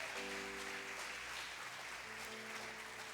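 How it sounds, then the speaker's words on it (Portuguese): A congregation claps at a Sunday church service, a steady wash of applause lasting a few seconds at moderate distance, with a faint sustained musical tone underneath and no speech. "dá um aplauso aí"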